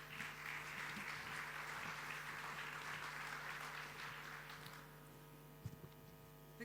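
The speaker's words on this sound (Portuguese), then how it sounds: "Uma salva de palmas." Audience applause at a European funds showcase event in Porto, a dense steady clapping from a crowd that fades out after several seconds, leaving room tone with a few stray claps.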